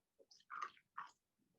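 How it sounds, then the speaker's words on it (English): Person chewing ice at close range, a few short crunchy bites spread over under two seconds, fairly quiet. "I don't think they want to hear you chewing ice though."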